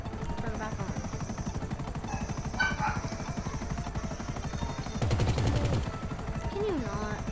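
Gunfire in the video game GTA, with shots and a burst of rapid fire mixed into game engine noise while players talk over it.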